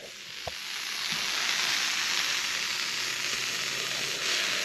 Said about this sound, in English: there's some steam coming out the bottom